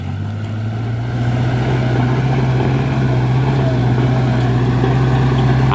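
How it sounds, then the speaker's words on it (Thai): An Iseki tractor engine runs steadily close by, a loud, constant low drone with a slight rise in level after the first second, with no voices. "รถไถเฮาอิซิกิ"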